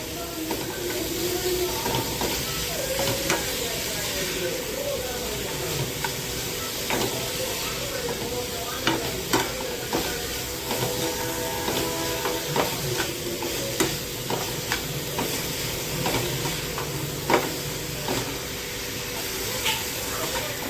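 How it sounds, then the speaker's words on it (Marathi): Vegetables and spices for veg momo filling are stirred and sautéed in a pan, giving a steady soft sizzle with repeated scraping and tapping of the spoon throughout, close and moderately loud. "आता याला आपण थोडंसं परतवून घेऊया. मसाले आणि भाज्या मिक्स होण्यासाठी."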